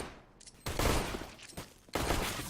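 Gunfire on Dust2 in a CS:GO match, several loud cracking bursts of shots with short gaps between them, sharp and close.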